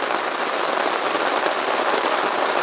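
Steady, dense rain patters on a poncho stretched as a makeshift shelter at an overnight hot-tent camp, a close, even hiss with no voices.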